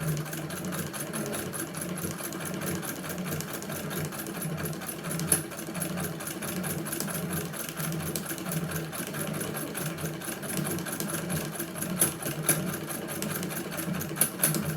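A hand crank sewing machine doing free motion embroidery whirs continuously and evenly throughout, close up and steady, with no voices.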